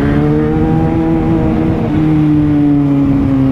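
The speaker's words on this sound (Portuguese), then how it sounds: "como eu gosto de andar de moto à noite" Motorcycle ridden at night on a city road, engine droning steadily with rising and shifting harmonic tones as it accelerates, loud and close throughout with wind rush underneath.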